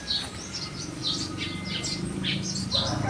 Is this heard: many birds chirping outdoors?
yes